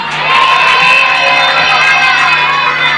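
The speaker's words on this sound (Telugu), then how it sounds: "చప్పట్లు కొట్టి గట్టిగా స్తోత్రం చెప్పండి" A church congregation shouts praise loudly together, forming a dense, sustained roar of many voices that stays strong and even from start to finish.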